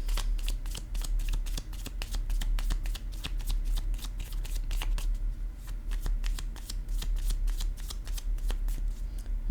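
Playing cards shuffled for a card reading, a rapid run of crisp riffling clicks and flutters repeating steadily throughout, close and fairly loud with no talking.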